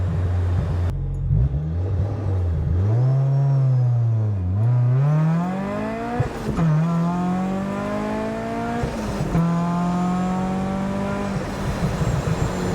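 Rotrex-supercharged Mazda Miata launching from a stop to 60 mph, its engine revving up in rising sweeps through several quick gear changes, loud and close with a whining supercharger edge.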